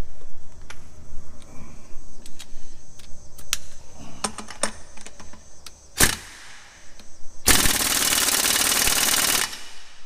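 Air impact wrench at 90 psi hammering on a lug nut, scattered short clicks and bursts, then a sharp crack and a loud, continuous rattling hammer for about two seconds, close by, with no talking.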